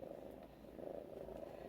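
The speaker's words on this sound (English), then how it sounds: "kitties purring as I pet them" Cats purring while being stroked, a soft continuous low rumble with a steady throb, close and faint, with no other sounds over it.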